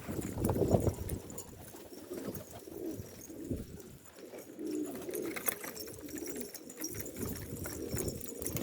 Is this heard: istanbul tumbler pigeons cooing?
yes